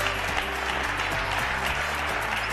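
A studio audience applauds loudly and continuously on a Spanish television bowling game show, with dense, steady clapping and no speech over it.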